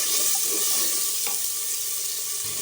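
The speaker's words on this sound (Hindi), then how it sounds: "मसाले को हमने अच्छी तरह से भून लिया है।" Spices and tomato sizzle steadily in a pan for dal, a continuous bright frying hiss with a faint stir or clink partway through, close and without voices.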